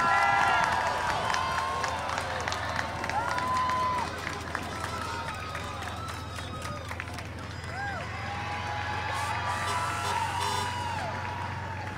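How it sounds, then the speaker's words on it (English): A first-year college class cheering, whooping and applauding outdoors in front of Adelbert Hall at the Hudson Relays, a sustained crowd roar with scattered shouts, while someone talks over it. "hearing the cheers and applause and excitement from our first year class in front of Adelbert Hall"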